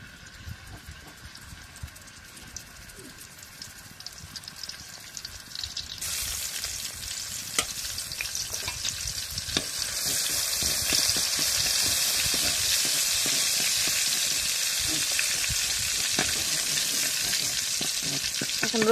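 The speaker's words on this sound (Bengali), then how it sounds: "এখন রসুনটা একটু তেলের মধ্যে ভাজা নেই।" Crushed garlic frying in hot oil in a wok, a steady bright sizzle that swells louder partway through and holds as a dense continuous hiss with small crackles, no voices.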